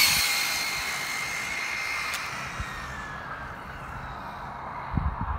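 A Traxxas Slash RC car running on 4S at full throttle makes a high, steady electric whine that fades as it speeds away, with a faint pop near the end and no talk.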